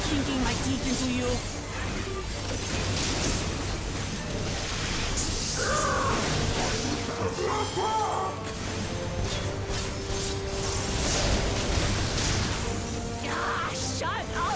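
A bird in the Final Fantasy XIV game on the Isle of Haam caws repeatedly and harshly over game music and effects, while voices talk throughout.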